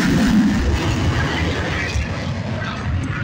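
An F-35C Lightning fighter jet flies past during an air show demonstration, giving a loud, steady jet roar with a broad rumble that stays strong throughout.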